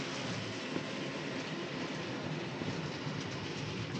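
A model railway locomotive runs around a miniature layout, giving a steady, continuous rolling rumble of small wheels on track that holds level for the whole stretch, with no talk over it.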